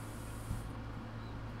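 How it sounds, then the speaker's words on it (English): Spray paint tool in the painting game Passpartout, a short soft hiss of spray at the start that fades away, followed by a faint low background hum. "We'll use the spray for the sunlight."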